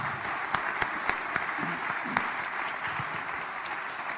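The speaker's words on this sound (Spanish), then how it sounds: "les pido un aplauso a todos los panelistas" Audience applause for panelists at a road safety conference: steady, moderately loud clapping from a seated crowd with a few sharper individual claps standing out.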